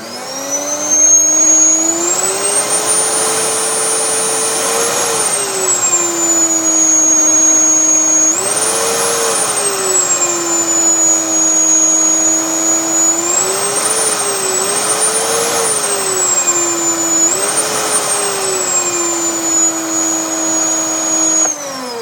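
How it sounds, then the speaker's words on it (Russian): A loud 750 W Samsung vacuum cleaner motor with a faulty, likely burnt speed regulator drones continuously, its pitch repeatedly rising and falling as the speed is turned up and down. "Ремонт пылесоса обычного Samsung."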